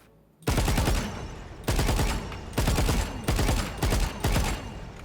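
Rapid automatic gunfire from the Jinx Vandal skin in Valorant comes in five loud, close bursts of full-auto shots separated by short pauses.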